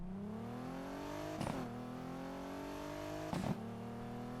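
A stock Audi S5 engine in the Need for Speed Heat racing game revs and climbs steadily, with two brief gear-shift bursts breaking the smooth rising drone, loud and alone without talk.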